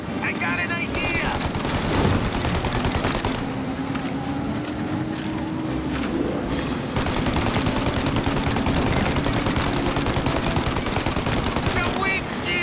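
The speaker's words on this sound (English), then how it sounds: "Shoot out the windshield!" Gunfire in Mafia: Definitive Edition during a car chase shootout, rapid bursts of shots crackling over a steady engine drone, loud and dense with shouting voices mixed in.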